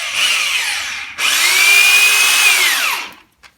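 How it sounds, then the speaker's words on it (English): A power drill drives a screw into pallet wood boards, two close whirring bursts, a short one then a longer one with rising and falling motor pitch, ending in quiet. "so I can just run the screw in"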